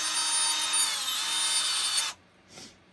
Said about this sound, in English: It's a sander.